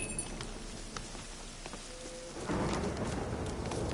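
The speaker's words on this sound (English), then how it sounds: "Yes, it's raining." Rain falling in The Witcher 3: Wild Hunt, a steady broadband hiss of in-game rainfall that grows noticeably louder and denser halfway through, heard alone without voices.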